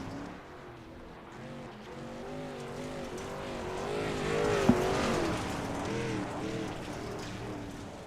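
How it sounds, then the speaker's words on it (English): Racing truck in a truck series event, handling a little loosely as it crosses the start-finish line; a steady engine drone with shifting pitch holds throughout, swelling briefly near the middle, with no talk over it. "That truck looking a little ill handling there a little bit as he comes across the start-finish line"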